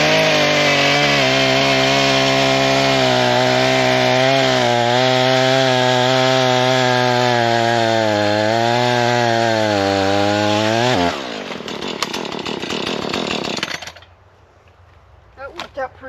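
A chainsaw cuts a chunk of wood with a loud, close engine drone that rises and falls under load for about eleven seconds. It then rattles and grinds briefly before cutting out, followed by faint handling sounds.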